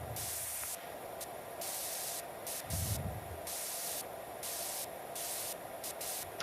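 A pressure washer in PowerWash Simulator 2 sprays in bursts, a bright hissing jet cutting in and out in short and longer pulses over a low background rumble.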